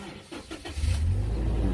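A Toyota Kijang Innova engine cranks briefly and catches, settling into a loud, steady low rumble close by, with no voices.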